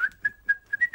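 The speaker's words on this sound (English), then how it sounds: "Because you're whistling a happy tune." Someone whistles a cheerful tune in short, bright, clear notes, close and alone with no talking.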